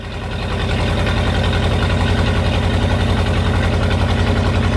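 An engine with fuel leaks, a new tachometer and wrapped exhaust idles loudly and steadily up close, with a fast, even pulsing throb that settles in after a brief rise.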